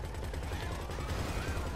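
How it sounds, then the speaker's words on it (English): Rapid gunfire in the Full Auto car combat video game crackles as a dense, steady burst over a low rumbling game soundscape for nearly two seconds, with voices faintly mixed in. "I was taking damage from those gunshots."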